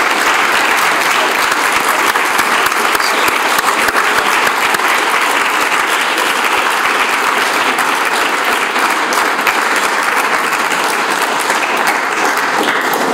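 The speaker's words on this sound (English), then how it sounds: "I hope you have heard the applause" Sustained audience applause at the close of a lecture on whether just societies are happier, a steady dense wash of many hands clapping at even loudness throughout, with no talk over it.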